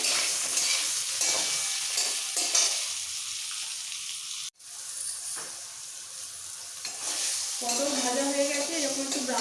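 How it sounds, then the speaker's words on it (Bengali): Pointed gourd (potol) pieces fry in a pan with a steady, close sizzle that runs nearly throughout, briefly cutting out midway before resuming with occasional stirring scrapes. "পটলটাকে একটু ব্রাউন করে ভেজে নিতে হবে"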